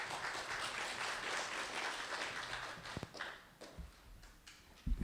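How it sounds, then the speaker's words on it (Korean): Conference audience applause at a finance forum, distant and faint, fading out into a few scattered claps and taps. "큰 박수 부탁드립니다."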